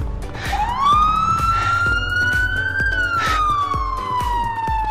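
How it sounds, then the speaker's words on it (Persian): Police car siren from an Iranian-themed GTA mod video game, a loud wailing tone that sweeps up, holds, then slowly falls, alone over steady background game noise. "صدای آژیر ماشینا هم حتی تغییر کرده."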